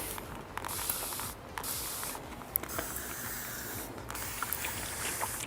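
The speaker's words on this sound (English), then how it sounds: "Misting everywhere again to smooth out the paint and let it go on a lot smoother." A spray can mists a second coat of paint onto a surface in bursts of soft, airy hissing, separated by brief pauses and a faint click, close and moderate in level.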